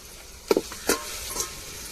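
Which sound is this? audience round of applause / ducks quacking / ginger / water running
ginger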